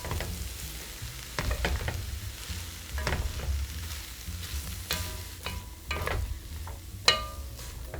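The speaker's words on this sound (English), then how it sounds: "we're gonna add in our fennel, our potatoes, our basil and parsley" Fennel, potatoes, basil and parsley go into a soup pot and are stirred, giving irregular scraping, clunking and soft sizzling sounds with several sharper knocks, no talk.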